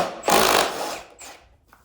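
A nut is loosened from the rear wheel of a Troy-Bilt TB230 lawn mower with a power tool, giving a loud, close burst of mechanical whirring that lasts about a second, followed by a shorter, fainter second burst.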